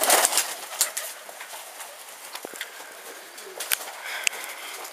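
A flock of about forty racing pigeons outdoors, with soft cooing and scattered wing flaps and calls, fairly quiet and intermittent against light background noise.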